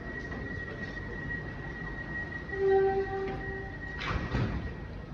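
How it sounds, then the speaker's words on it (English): A Melbourne train sounds a sustained horn blast as it leaves an underground platform at Anzac Station, with rumbling carriages and echoing station noise around it. "in Melbourne, trains blow the horn every single time they leave a platform"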